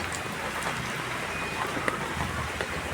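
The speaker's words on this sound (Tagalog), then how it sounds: "mababasa ako ng ulan" Steady rain falls outdoors with a broad, even hiss, a few brief drops pattering near at hand and a soft low rumble underneath; nobody speaks.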